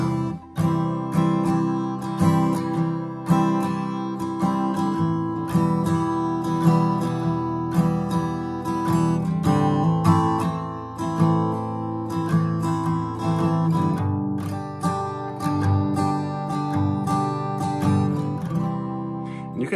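Acoustic guitar strummed steadily in a down-down-up-up-down pattern for a song, full ringing chords repeating evenly and fairly loud with no voice over them.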